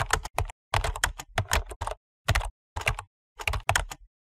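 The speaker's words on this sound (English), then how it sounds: "Type your complete Gmail address." Fingers type on a computer keyboard in several quick bursts of close, crisp key clicks, with short pauses between runs and no voices.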